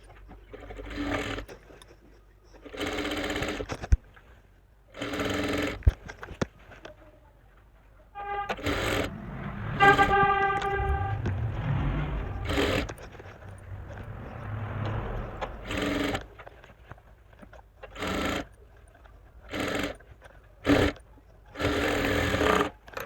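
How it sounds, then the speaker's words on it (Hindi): A sewing machine stitches a seam all the way around a loose palazzo, running in repeated close, loud whirring bursts separated by short pauses. "ऊपर की तरफ से सिलाई को लगाते हुए पूरे राउंड में सिलाई लगा देंगे"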